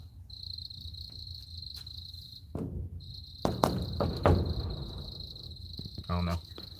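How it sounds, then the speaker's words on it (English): A cricket chirps loudly and steadily from close by at a cave, its shrill trill running through most of the stretch while someone talks over it and thuds and knocks break in. "cricket is extremely loud. Y'all hear it?"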